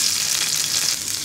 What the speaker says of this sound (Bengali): তেলটা গরম হয়ে গেলে 1 টেবিল চামচ পরিমাণ রসুন কুচি দিয়ে দিব।